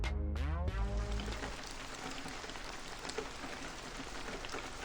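Heavy nighttime rain in the video game Max Payne 2, heard as a dense, steady hiss of falling water. A brief tonal sound fades out at the start.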